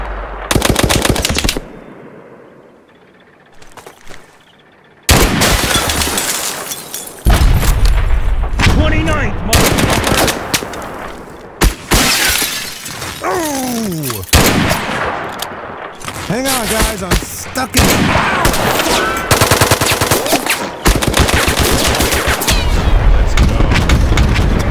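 Loud, close gunfire from the Mud and Blood war game: long rattling machine-gun bursts and heavy booms fill most of the stretch, with a brief quiet gap early on and voices shouting amid the shooting.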